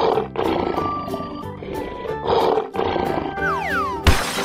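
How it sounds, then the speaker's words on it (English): A lion in a 3D animal slide video game gives loud, rough roars under upbeat game music, followed by a falling whistle effect and a short burst of noise. "Lion."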